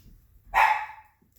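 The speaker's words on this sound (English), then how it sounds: "Sorry, my dog is barking." A single sharp bark from a pet dog indoors, loud and close, rising out of near silence and fading quickly.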